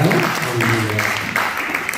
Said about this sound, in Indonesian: Beri tepuk tangan yang paling baik buat Tuhan kita.